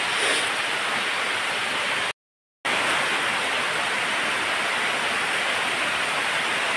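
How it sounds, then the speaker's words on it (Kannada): Steady heavy rain falling outdoors in a rural Karnataka area, a dense even hiss that continues throughout, broken by one brief silent gap near the middle. "ಅಷ್ಟರಲ್ಲಿ ಮಳೆ ಬರಲಿಕ್ಕೆ ಸ್ಟಾರ್ಟ್ ಆಯ್ತು"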